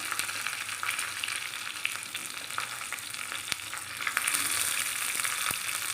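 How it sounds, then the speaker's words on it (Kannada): Mustard seeds, curry leaves and green chillies crackle and pop in hot oil for a spicy rasam tempering, a steady close sizzle with sharp scattered spits and a few louder snaps, no voices. "ಸಾಸಿವೆ ಚಟಪಟ ಅಂದ್ಬಿಡ್ಲಿ"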